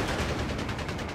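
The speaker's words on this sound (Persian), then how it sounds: "دارم به سمت اینجا شلیک میکنن" Gunfire from the video game Company of Heroes 3 during an online battle, a dense continuous crackle of rapid shots and bursts, steady and loud throughout.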